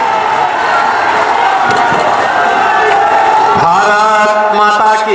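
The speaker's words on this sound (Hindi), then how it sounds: "आप सबकी जोरदार तालियों के साथ।" A large crowd at a public rally with the Chief Minister in Azamgarh claps and cheers loudly throughout, a dense continuous roar, with a voice beginning to speak near the end.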